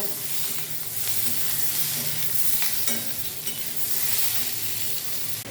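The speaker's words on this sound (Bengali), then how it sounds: "আমি ওইগুলোকে পেঁয়াজ আদা রসুন এইভাবে ভেজে নিয়েছি" Onion, ginger, garlic and tomato fry in a pan for egg curry, a steady close sizzle with stirring scrapes running throughout, no talk.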